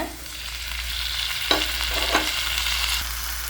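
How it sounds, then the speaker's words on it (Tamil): Onions sauté in oil with mustard seeds, urad dal and cumin, a steady close sizzle with two distinct spatula scrapes against the pan partway through, no talking. "இப்போ வெங்காயத்தை கொட்டிட்டு நல்லா வதக்கிக்கலாம்."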